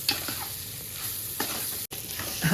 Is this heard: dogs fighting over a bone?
no